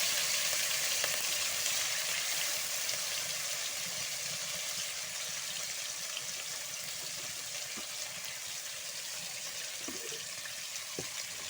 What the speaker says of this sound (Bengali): মাছ ভেজে মশলা দিয়ে দিছি আর পোনা মাছের ঝোল করবো আলু দিয়ে তাই মশলাটা কষিয়ে নিচ্ছি